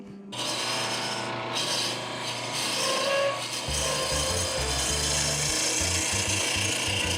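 A spindle gouge shapes a Bocote wood pen blank on a lathe, producing a continuous rasping scrape over the steady hum of the spinning machine, close and fairly loud with shifting tone as the cut changes.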